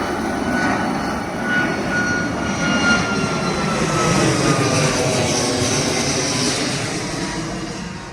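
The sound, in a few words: airplane flying overhead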